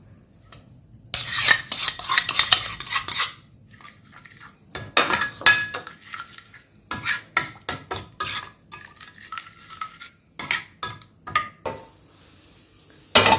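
A metal spoon stirs a tadka with plenty of fresh coriander in a pan, scraping and clinking in repeated bursts with brief pauses between, close and fairly loud, no voices.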